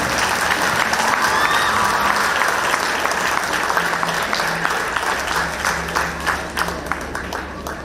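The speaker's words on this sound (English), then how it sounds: "Please give a round of applause to all the children over here" Sustained applause from an audience at a school annual sports day, steady dense clapping lasting the whole stretch, moderately loud with faint voices beneath.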